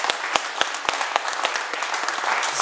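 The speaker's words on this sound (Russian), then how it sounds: "аплодисменты великому Богу, Отцу" A church congregation applauds during a sermon, a dense, steady burst of many hands clapping together that fills the whole moment at moderate loudness, close and sustained without pause.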